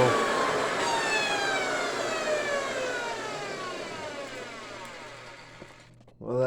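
Hoover Convertible 704 upright vacuum cleaner sucking up a desiccant packet, a loud strained whine with gliding tones that slowly falls in pitch as the motor winds down, ending in a brief voice.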